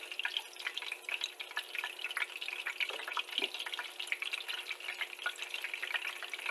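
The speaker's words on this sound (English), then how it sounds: "They put it in the oil and then they baste it" Stuffed milkfish (bangus relleno) frying in hot oil as it is basted, giving a steady close crackling sizzle with bright spitting pops throughout and no voices.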